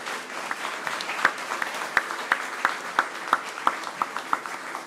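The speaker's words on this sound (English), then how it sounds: "let's give these babies one more round of applause" Light applause at a county school board meeting, a small group clapping softly with several sharper individual claps standing out in a loose rhythm, moderately distant.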